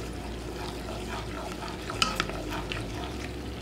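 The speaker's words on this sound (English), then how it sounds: "now you can hear it sizzling up" Butter and vegetables sizzle in a pan for chicken and dumplings, a steady close frying hiss with a brief clink of a utensil near the middle.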